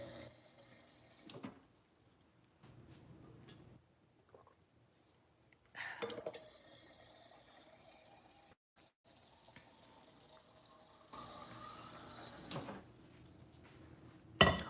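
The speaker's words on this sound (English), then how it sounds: "Let me get some water." Water runs briefly from a tap while dishes clink and clatter in a quiet room, in short separate bursts.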